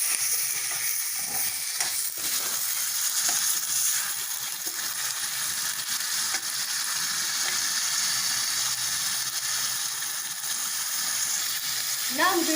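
Onions, tomatoes, capsicum and chilies fry steadily in a pan, giving a continuous close sizzle and crackle that runs unbroken throughout, with light stirring scrapes now and then.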